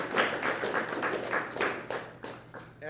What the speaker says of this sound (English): Big round of applause for all of our volunteers.